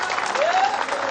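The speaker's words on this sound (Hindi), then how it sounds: "इनके लिए सबसे पहले ताली बजाओ।" An audience at a gathering claps in a steady, dense patter at moderate loudness, and a brief rising whistle-like tone slides through the middle of the applause.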